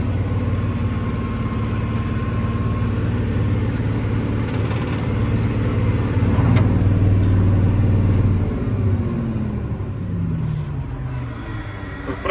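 A LOVOL 130 tractor pulls a Veles Agro PON3+1 plough across a sunflower-stubble field on hand throttle, its diesel engine droning loud and steady up close, with the load shifting and the pitch wavering midway.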